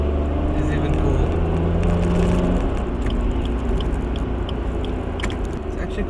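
Suzuki S-Presso with the 1.0L K10C Dualjet engine pulling hard in first gear, a loud droning engine note with road and wind noise throughout while someone talks over it.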